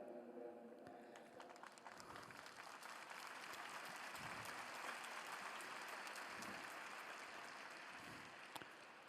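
A large audience applauds Pope Francis during a general audience catechesis on the family, with steady dense clapping filling the whole stretch at even loudness and no talk over it.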